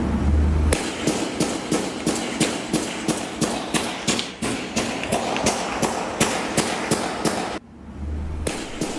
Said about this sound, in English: you'll hear about 20 gunshots in this video